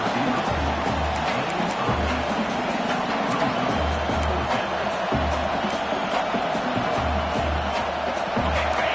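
Stadium crowd at a CFL football game against Colorado, a loud continuous roar of massed voices and cheering with rhythmic low thumping underneath, swelling steadily throughout.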